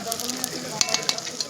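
Oil sizzles and fries loudly in a pan while biryani is cooked, with scraping stir strokes and crackling bursts close by and brief background voices.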